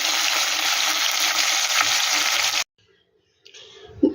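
Small mourala fish fry in hot oil in a kadai, a dense steady sizzle for a couple of seconds that cuts off abruptly, followed by a quiet gap and a faint clatter.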